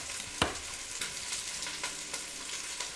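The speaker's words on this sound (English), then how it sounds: "Oh, it's sizzling over there." Chicken sizzles on a grill with a steady, bright frying hiss and occasional soft pops and stirring scrapes, heard fairly close and alone without talk.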